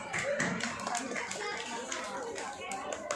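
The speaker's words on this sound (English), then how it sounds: "Give a round of applause." Applause from children and audience at a school Children's Day celebration, a dense burst of clapping with voices and chatter mixed in throughout.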